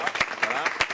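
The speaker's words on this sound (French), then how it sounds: "Applaudissements pour eux." An audience at a Gabon television event applauds with a brief burst of dense clapping, while a voice talks over it.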